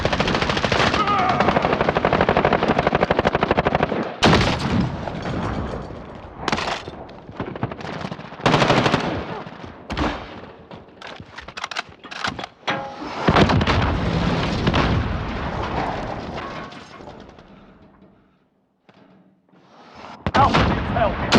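Dense machine-gun bursts and heavy artillery booms from a military video game, loud and nearly continuous with brief pauses, ending in a short lull before firing resumes.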